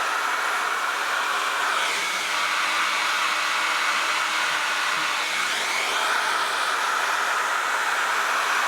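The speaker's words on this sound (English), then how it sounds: "I'm just going to use a hairdryer here." A hair dryer blows steadily and loudly at close range to dry freshly rinsed bearings, a continuous airy roar that holds even throughout with no voices.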